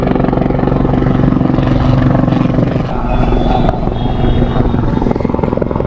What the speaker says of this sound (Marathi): आता हेलिकॉप्टर लँड होईल थोड्या वेळात